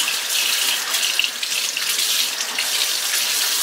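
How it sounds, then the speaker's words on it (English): Water runs steadily from a kitchen sink faucet, a continuous close hiss of flow filling the whole stretch with no talk. "Then I go over here and run it on water."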